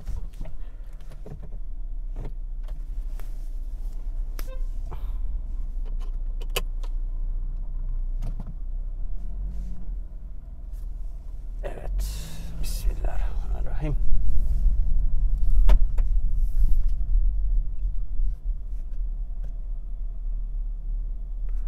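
A nearly new rented fleet car pulls away from inside the cabin: a steady low engine rumble with scattered clicks and a whirring power window, swelling louder about halfway through as it gets moving.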